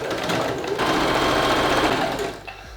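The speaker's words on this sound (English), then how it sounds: "now what I'm gonna do is sew the top part of the waistband" A sewing machine stitches along the top edge of a skirt waistband in one steady, close run of rapid needle strokes that slows and stops near the end.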